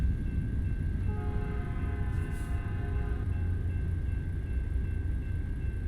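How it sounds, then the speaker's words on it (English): A passing train in the American Truck Simulator video game, heard at a red light, rumbles steadily throughout while a sustained horn sounds for a few seconds in the middle, fairly faint and with no talk. "Goes the train."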